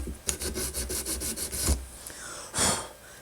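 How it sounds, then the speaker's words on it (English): Sandpaper wrapped around a saw blade rasps back and forth in a slot cut into a popsicle-stick minnow lure, making a quick run of close rhythmic scraping strokes and then a final louder rub. "you can take some sandpaper and wrap it around your original saw blade and just work your way in."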